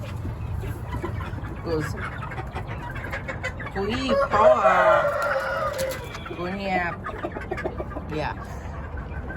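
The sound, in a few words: chickens clucking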